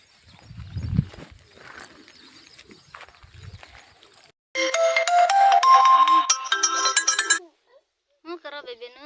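A mobile phone ringtone plays loudly and steadily for about three seconds, then gives a few short tone bursts. Before it, someone talks quietly over faint indoor noise.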